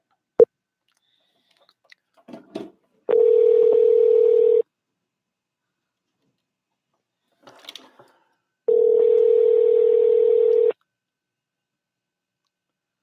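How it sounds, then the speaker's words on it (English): A phone call being dialed: a few faint clicks and taps, then two long steady ringing tones with a pause between them. The sound is clear and fairly quiet, with no voices. "I'll try calling his person one more time"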